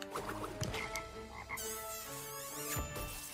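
Frog enemies in the Crash Bandicoot 3: Warped video game croak repeatedly amid game music and effects, with no talking.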